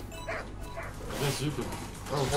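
Beagle barking and yipping in the video game Tokyo Jungle, a few short yelps under ongoing excited talk from several players.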